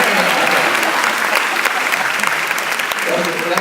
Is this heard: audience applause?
yes